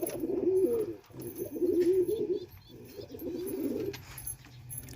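Pigeons in a breeding loft coo in three close, rolling bursts separated by short pauses, loud and near, with faint background noise between calls.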